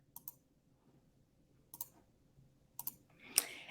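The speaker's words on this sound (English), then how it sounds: "So I'm going to click here." A computer mouse clicking while terrain is drawn in design software: three quiet, sharp double clicks spaced apart, then a slightly louder click near the end, with faint room hum and no talking.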